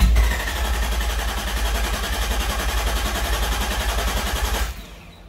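The engine of a Nissan R33 Skyline GTST turns over with a steady, rapid starter-motor chug for about four and a half seconds without catching, then cuts off abruptly. It is loud and close, and no one speaks over it.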